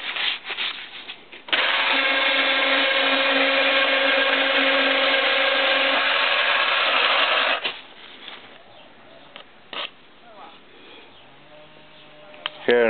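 A 6T10 milling machine cuts a 110cc Chinese motorcycle engine head, giving a steady whining grind for about six seconds, then stopping, followed by quieter clinks and handling noises.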